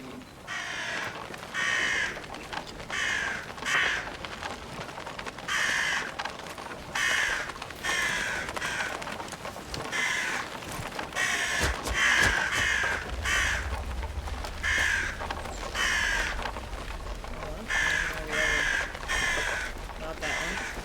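Crow caws from a video game ring out repeatedly at a steady, fairly loud level, each call harsh and clipped, layered over ongoing game ambience with someone talking now and then.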